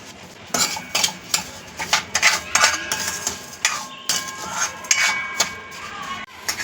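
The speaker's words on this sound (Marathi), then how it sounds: "गूळ टाकलेला आहे आणि ही साखरही त्यात टाकलेली आपण आता ही छानपैकी त्यात भाजून घेऊयात" Spoon stirring and scraping against a pan as jaggery and sugar roast in ghee for ukdiche modak, with repeated metallic clinks and scrapes at an irregular rhythm, close and fairly loud, with no talking.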